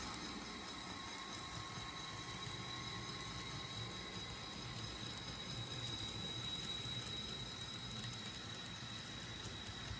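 A model passenger train on a Santa Fe layout pulls out onto the main track with a faint, steady rumble of wheels and a thin high whine running throughout. No voices are heard.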